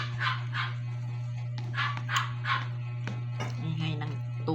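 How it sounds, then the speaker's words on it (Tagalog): A puppy barks in a series of short, high yips spaced across the moment, fairly close, over a steady electrical hum, with faint background voices. "Ingay ng tuta."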